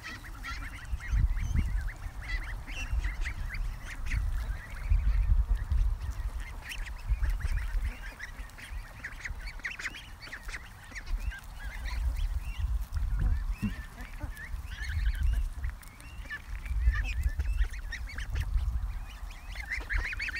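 Geese honk and ducks quack at close range around someone's feet on a lawn, a busy overlapping chorus of calls with low rustling and pecking noise throughout.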